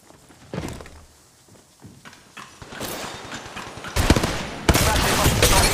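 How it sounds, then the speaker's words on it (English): Gunfire in the battle royale shooter Apex Legends Mobile: scattered shots build into dense bursts of rapid automatic fire, loud and close toward the end, mixed with clattering game sounds and some talk. "They're shooting at me."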